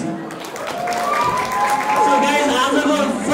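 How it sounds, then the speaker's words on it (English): Applause from a wedding crowd swells under cheering voices and music, building steadily over a few seconds. "can we give a round of applause for them"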